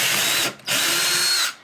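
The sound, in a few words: drill with Forstner bit pre-drilling holes in wood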